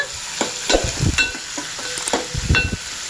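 Onions frying with ginger garlic paste in a pan over high heat for a drumstick curry, a loud close sizzle with frequent stirring scrapes and knocks.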